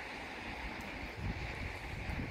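Steady roar of strong typhoon wind buffeting the microphone, a continuous broadband rush with gusty swells and no clear speech.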